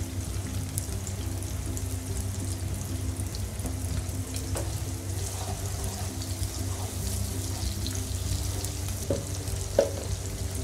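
Dried chepa shutki fish and onions frying in oil for a pickle give off a steady, close sizzle with a low hum underneath and faint occasional clinks, continuous and without talk.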